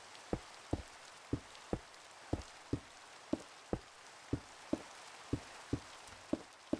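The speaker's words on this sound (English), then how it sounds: "Do you think it's raining, like constantly raining because we're on the beach?" Rain falls in the Minecraft game as a soft, steady hiss, with quiet regular taps repeating about twice a second.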